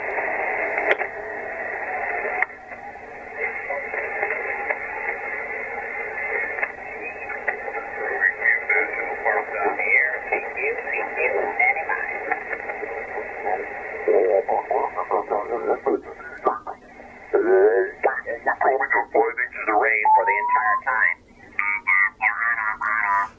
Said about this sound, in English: I'm going to continue turning until it sounds normal, and then I'll continue in the same direction until it starts sounding like Donald Duck again